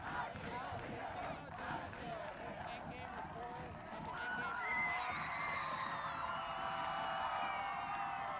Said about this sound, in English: You can probably hear the Mountaineers fans cheer